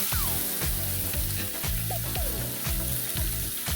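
Sliced siru kizhangu (Chinese potato) sizzles loudly in hot oil with chili powder, with steady close frying crackle and several stirring scrapes against the pan.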